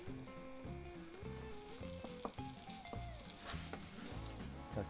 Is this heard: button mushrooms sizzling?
yes